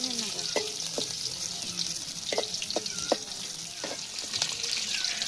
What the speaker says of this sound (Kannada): ಹಸಿಮೆಣಸಿಕಾಯಿನ ಚೆನ್ನಾಗಿ ಫ್ರೈ ಮಾಡ್ಕೋಬೇಕು ಎಣ್ಣೆಲಿ